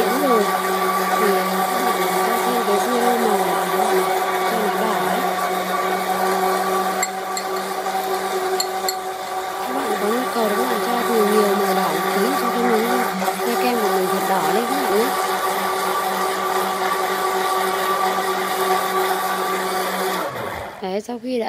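A blender runs steadily, whirring through watermelon chunks and milk as an ice cream base, a loud continuous motor drone with slight pitch wobbles throughout, cutting off abruptly near the end.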